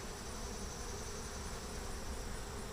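Honeybees drone constantly around an opened hive that may have lost its queen, a uniform close buzz with no breaks and no speech.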